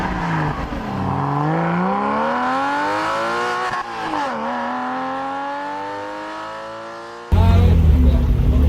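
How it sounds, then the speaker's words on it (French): A Porsche 996 Carrera 2 cabriolet with a 3.4-litre flat-six pulls away at the start of a rally, its engine revving hard through rising, climbing pitch sweeps with a brief dip and gear change. A louder rough burst closes the passage, with no talk over it. "Chris, je pense que vous vous souvenez tous, 996 3 litres 4 Carrera 2 en cabriolet."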